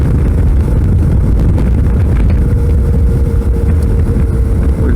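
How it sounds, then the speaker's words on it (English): Strong wind buffeting the microphone during a ride on a Suzuki V-Strom 650 motorcycle, a loud, steady low roar that never lets up, with engine and road noise blended underneath. "We'll try to go in a place with less wind."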